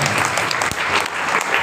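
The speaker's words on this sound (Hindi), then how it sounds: "एक बार ताली बोलो इनका" Audience applause at an indoor disaster-preparedness event, a dense steady clatter of many hands clapping at close range, holding evenly loud across the whole short stretch with no talk over it.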